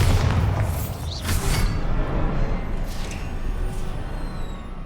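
A deep rumbling boom from the Bombarda blasting spell in Hogwarts Legacy, a loud sustained low roar with debris-like bursts through the middle.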